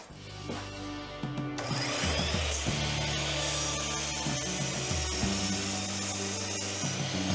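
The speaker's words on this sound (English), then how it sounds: "I'm just going to cut a piece off the scrap piece I have left over at the miter station" A power saw at a miter station slices a thin strip of scrap wood, its motor whining loudly and steadily with brief shifts in pitch as the blade bites through the piece.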